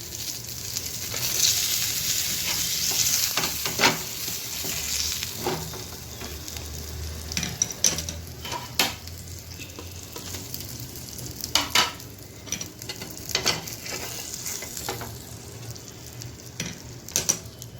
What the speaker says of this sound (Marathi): सुरमई फ्राय करताना ही शक्यतो मध्यम आचेवरच फ्राय करायची असते मी इथं मध्यम आचेवरच फ्राय करत आहे